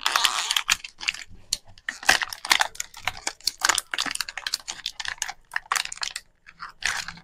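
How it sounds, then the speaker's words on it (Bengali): A motorbike piston ring being cut by hand, a rapid series of sharp, crisp clicks and snips at close range, irregular in rhythm, with no voices. "তো এবার রিংটাকে কাটছি।"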